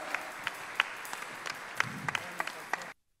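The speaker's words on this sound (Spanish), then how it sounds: "Demos un fuerte aplauso al Señor por ser tan bueno con nosotros" Congregation applauding at a charismatic renewal church congress, a steady wash of clapping with a few sharp individual claps standing out, ending abruptly in silence.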